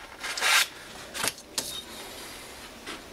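On a 1969 Triumph Spitfire engine part, 240 grit sandpaper rubs briefly across metal to take off a burr, in three or four short, soft scratching strokes with pauses between them, close up and quiet.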